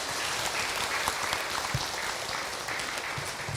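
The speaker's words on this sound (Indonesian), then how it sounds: "Tepuk tangan buat ibu yang bertanya." A crowd at an Islamic lecture claps steadily, a dense, even wash of applause throughout.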